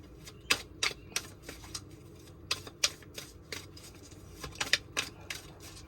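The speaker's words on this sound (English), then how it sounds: "So 3 more shuffles here." Crisp riffling bursts of a tarot deck being shuffled, several quick rounds in close succession, up close with no talking.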